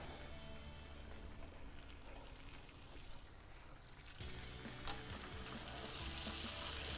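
Ribeye steak sizzles steadily in a cast iron skillet, a continuous close frying hiss with small crackles, briefly interrupted midway as the meat is flipped, then resuming.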